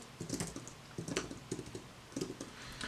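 Close, quiet typing on a computer keyboard while writing C++ code, with clusters of quick keystrokes separated by short pauses; no voices.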